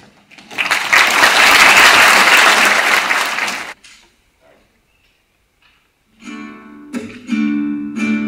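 An audience at a school dance and music performance breaks into loud applause for a few seconds, fading out before a pause and the start of music.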